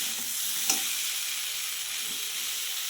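Chillies and perandai sautéing in a pan give off a soft, steady frying sizzle with faint stirring scrapes, close and quiet, with no talk.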